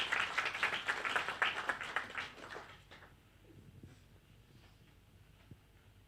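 A conference audience applauds a drone-delivered defibrillator success, the clapping fairly faint and distant, lasting about three seconds before dying away into quiet room noise with small scattered knocks.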